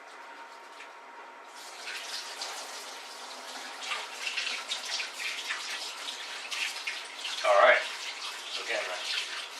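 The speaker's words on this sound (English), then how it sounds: "I'm just going to wash my hands now." A kitchen tap runs steadily while hands are washed after handling raw bacon, giving a close, even gush of water with splashy changes, and a voice talks briefly over it.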